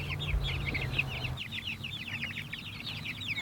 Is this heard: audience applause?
no